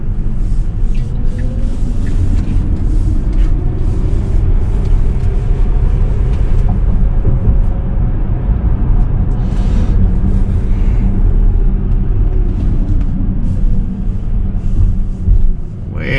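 A Tesla accelerating on the road, heard from inside the cabin as a steady, loud low road-and-motor rumble that holds evenly throughout, with no talking over it.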